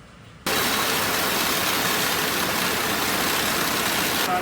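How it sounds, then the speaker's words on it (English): A Sawzall reciprocating saw cuts into a rust-welded Farmall tractor wheel, starting abruptly and then buzzing loud and steady at close range with no pauses. "we're gonna try the old Sawzall method"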